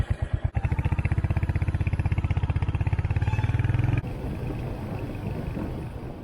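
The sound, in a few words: motorcycle riding on a road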